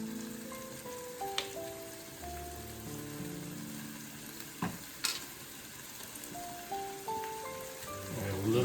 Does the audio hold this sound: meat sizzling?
yes